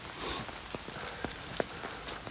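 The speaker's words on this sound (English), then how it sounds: "That rain's really coming down now," Heavy rain pours down outdoors on a flooded countryside walk, a dense, steady hiss of drops with a few sharper nearby splats and patters standing out, no voices.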